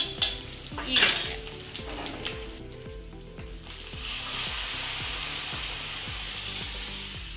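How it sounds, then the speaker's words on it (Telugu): A tempering for green tomato dal with moringa leaves hisses in a hot pan. Spoon clinks and stirring come first, then a steady, close sizzle settles in. "ఇప్పుడు తాలింపు పెట్టేద్దాం"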